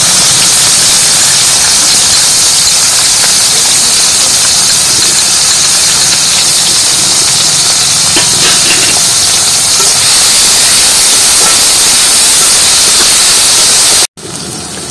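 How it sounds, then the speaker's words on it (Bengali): Onions fry with browned cumin seeds in a hot pan, giving a loud, steady, close sizzle that runs unbroken for about fourteen seconds before stopping abruptly. "পেঁয়াজ কষা"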